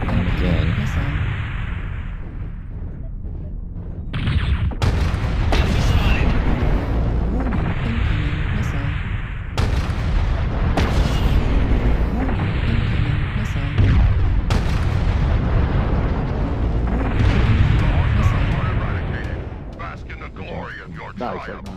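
Missile explosions in the MechWarrior Online mech combat game, a series of heavy booming impacts and gunfire bursts spread across the stretch, mixed with announcer voice and players talking.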